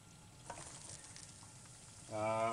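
Mushrooms fry in butter in a pan while a whale meat stew is cooked, a quiet steady sizzle with a few soft stirring touches and a brief louder crackle near the end.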